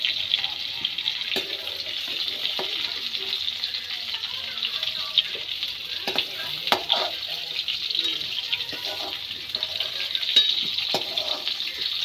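Food frying in a pan gives a steady, close hiss and sizzle throughout, with light clinks and stirring scrapes scattered on top.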